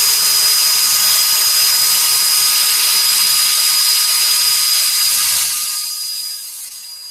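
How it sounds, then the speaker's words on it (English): A power drill driving a bit into concrete during structural repair work, a loud steady high whine held for several seconds, then fading away near the end. "the video shows how the drill bit works actually"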